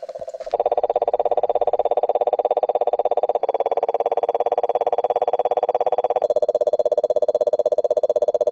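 Frogs croak steadily at night at an outback camp on an Australian road trip, a loud, dense, continuous pulsing chorus that shifts slightly in pitch a few times, with no talk.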